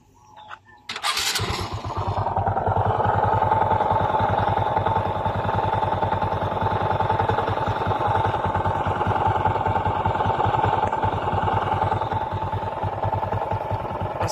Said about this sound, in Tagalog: Siyempre kailangan natin palandarin ang kanyang motor para marinig natin kung anong tunog meron ang